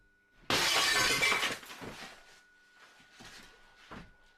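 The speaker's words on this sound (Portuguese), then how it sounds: "um outro objeto foi arremessado, só que dessa vez acabou acertando um vidro." A thrown object strikes and shatters glass: one loud, sudden crash with a bright spray of breaking shards, then scattered fragments tinkling and settling in several smaller bursts.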